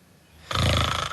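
A single loud snore starts about halfway through, a rough, sustained rattling breath after a quiet lead-in, heard alone and close.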